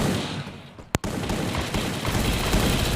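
Gunfire crackles in a team-up shooting video game, dense rapid bursts with one sharp, loud crack near the start, continuing as a busy, steady barrage.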